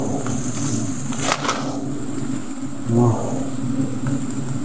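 Bees hum steadily around a hive in a rural province, a dense close buzz running throughout, with a brief voice and handling noises partway through.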